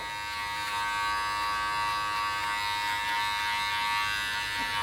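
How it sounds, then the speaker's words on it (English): Steady electric buzzing of hair clippers running close by, with a faint scratchy texture as they work through hair; no talking. "I can hear it properly scratching. So now it is taking off hair"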